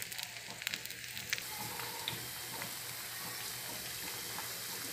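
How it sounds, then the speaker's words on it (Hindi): Cauliflower pieces for gobi manchurian frying in hot oil over a medium flame, giving a steady, close, hissing sizzle with a few crackling pops near the start and no talking. "फ्रेंड्स, हमारा तेल गर्म हो चुका है। अब मैं इसमें गोभी के पीसेस डालूँगी फ्राई करने के लिए।"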